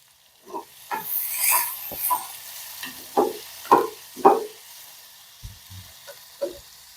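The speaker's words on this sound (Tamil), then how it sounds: "நல்லா கடுகு உளுந்து நல்லா பொரிஞ்சு வரட்டும்" Mustard seeds, urad dal and chana dal crackling in hot oil, with scattered sharp pops and brief sizzling bursts at close range, some louder than others, and a few low knocks near the end.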